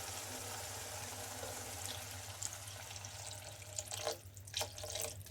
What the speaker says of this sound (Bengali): আমি অল্প পানি অ্যাড করলাম এখানে।